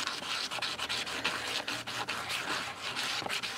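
Rough sandpaper rubbing a polymer clay egg, a continuous scratchy abrasive rasp in close, steady back-and-forth strokes with no talking.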